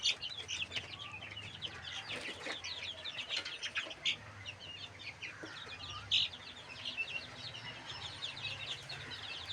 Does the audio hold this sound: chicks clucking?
yes